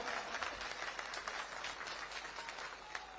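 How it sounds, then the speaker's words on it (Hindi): Crowd applause at a political public meeting in Kalkaji, Delhi, steady dense clapping from a large audience that fills the whole stretch without a break. "जोर से ताली बजाइए जरा"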